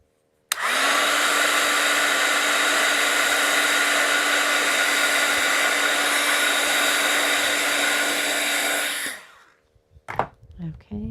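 A handheld dryer, likely a heat or hair dryer, drying a paper craft project, switches on abruptly and blows a loud, steady roaring whoosh for about nine seconds before cutting off, followed by brief handling sounds.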